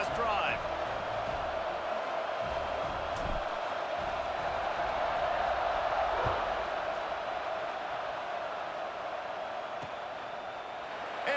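A stadium crowd in the College Football 26 video game keeps up a steady cheering roar during a Northwestern versus USC fourth-quarter kickoff, loud and sustained throughout, with a commentator talking over it.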